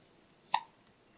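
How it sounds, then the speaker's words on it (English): A young child gives a single short hiccup, a brief sharp gulping catch of breath, close by in an otherwise quiet room. "Somebody's got the hiccups."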